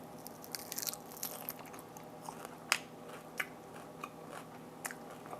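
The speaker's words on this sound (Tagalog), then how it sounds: "Tikman naman natin yung tilapia na medyo crunchy" Crunchy fried tilapia being bitten and chewed close up, a series of sharp crisp crunches at irregular intervals over a quiet background.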